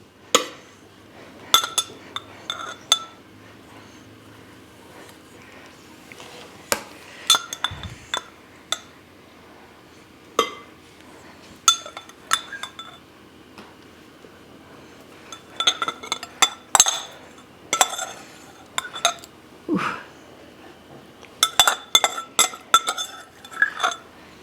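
Plates and dishes clink sharply as steamed rice is served out in a kitchen, with scattered bright chinks arriving in irregular bursts and clusters, loud and close, and no talking.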